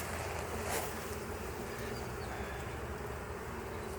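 A honey bee swarm hums inside a hive box that is falling apart, a steady, close, continuous buzz with no voices over it.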